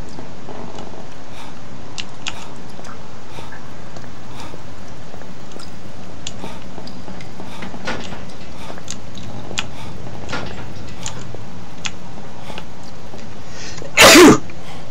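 A single sharp sneeze bursts out near the end, close and loud, after a long stretch of quiet room tone with faint clicks and small movements.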